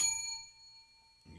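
A single bell strikes once, a bright metallic ding with a clear ringing tone that fades away over about a second, followed by a soft rustle.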